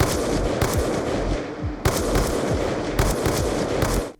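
Rapid bursts of gunfire from Black Ops 2, loud and close, in several dense volleys with short gaps between them and no voices.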